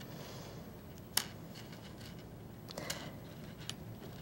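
Scissors trim the end of a piece of jelly lacing with one sharp snip, followed by faint light handling sounds in a quiet room.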